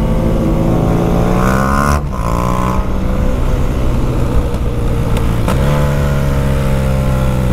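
A Volkswagen Gol car accelerates nearby in traffic, its engine note climbing through gears in a loud, continuous rising drone with a brief shift, heard alongside a BMW 1200 motorcycle's running engine.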